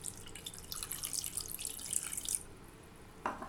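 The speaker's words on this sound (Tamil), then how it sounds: "இது கூடவே வந்து ஒரு 1/4 டம்ளர் வந்து நான் தண்ணி ஆட் பண்ணிடுறேன்." Water pours for a couple of seconds as a quarter tumbler is added to squid masala, followed by a brief clink, all fairly quiet.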